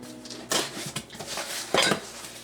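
A 7.5 inch Legion Utensils copper clad skillet with a stainless steel interior, from 1983, clanks and scrapes as it is handled and set down, a few short metallic knocks and rustles close by.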